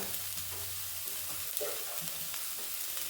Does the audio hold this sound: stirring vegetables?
yes